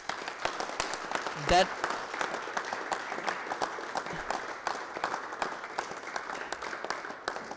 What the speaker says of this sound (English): So give him a big round of applause for that.